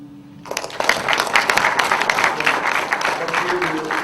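Attendees at an association general meeting break into applause after a quiet start, with steady clapping alongside a few voices talking.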